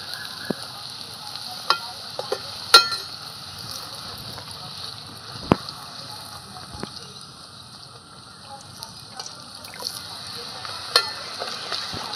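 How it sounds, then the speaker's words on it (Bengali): Luchi frying one at a time in hot oil at home, a soft steady sizzle with occasional sharp pops and stirring clicks, fairly quiet and without talk. "আবারও আরেকটা দিয়ে দিলাম লুচি, একটা একটা করে ভাজছি।"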